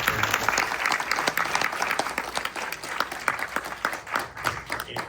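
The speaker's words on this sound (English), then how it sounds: "Let's give one more round of applause." An audience applauds at the close of a movie panel Q&A, dense steady clapping from a crowd filling the room for several seconds.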